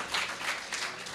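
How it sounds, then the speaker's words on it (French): A church congregation applauds and cheers together, a dense wash of clapping that carries steadily through the whole brief moment with no voices standing out. "Acclame encore, j'aime bien vos acclamations."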